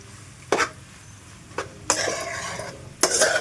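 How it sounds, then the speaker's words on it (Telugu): A spoon stirs curry in a pan, with a few distinct scraping strokes against the metal and a soft sizzle underneath, close and clear, no voices. "అంతా కలుపుకోవాలి మంచిగా, కారం అంతా పట్టేలాగా."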